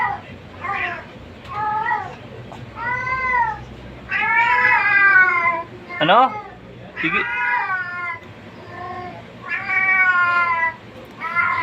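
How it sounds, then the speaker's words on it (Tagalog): A pet cat gives a run of loud, close, drawn-out meows, some rising into yowls, while a person says a few words between them in a home where fried milkfish is being cooked. "Sasalita na naman itong pusa namin, no?"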